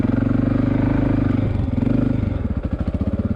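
Air-cooled four-stroke dirt bike engine running steadily during an off-road ride, a loud continuous mid-pitched drone that loosens into a throbbing, chugging pulse near the end.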